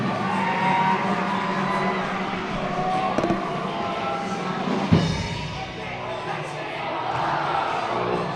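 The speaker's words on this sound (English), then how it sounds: "Ladies and gentlemen, get on your feet and cheer Mr. Ellie on." A crowd in a high school gym at a girls' basketball game cheers on a contestant, producing a continuous, loud roar of shouting and whooping that holds steady throughout with a brief spike partway through.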